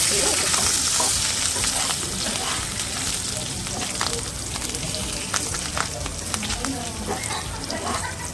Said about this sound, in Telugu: ఇంకొంచెం మంచి ఫ్లేవర్ రావాలంటే కరివేపాకు రెబ్బలు ఉంటాయి కదా ఇలా డైరెక్ట్గా ఆయిల్లో వేసుకుంటాను